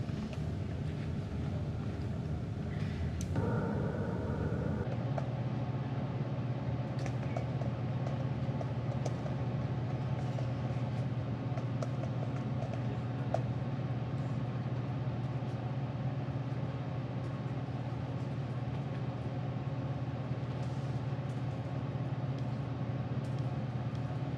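Car interior while driving slowly, a faint steady low rumble with wind noise throughout and a brief louder shift early on, with no voices.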